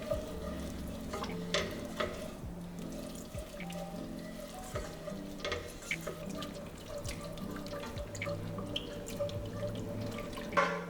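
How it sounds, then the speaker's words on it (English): Milk being added bit by bit to a thickening flour-based sauce for mac and cheese, with steady whisking and stirring in a pot, soft liquid drips and clinks of the utensil against the pan, close and continuous, with no talking. "I'm adding in milk, just a little bit at a time."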